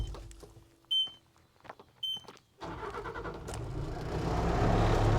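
A Bobcat T76 skid steer loader with a 74 hp engine gives a couple of short warning beeps, then the starter catches and the engine fires and builds into a loud, steady rumbling run close by.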